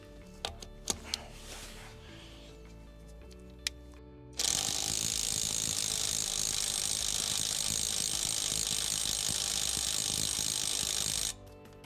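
A TEENO 320Nm brushless electric impact wrench loosens bolts. First come a few sharp isolated clicks, then a loud, continuous, high-pitched rattling hammer lasting about seven seconds before it stops abruptly. No one speaks.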